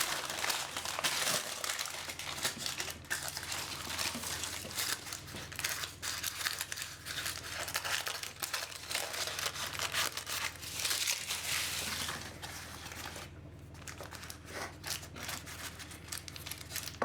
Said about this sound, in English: Press the shortbread on a parchment paper in the cake mold.